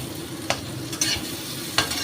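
Eggplant pieces fry in oil over a high flame, a steady low hiss with a few sharp scraping stir clicks spaced apart.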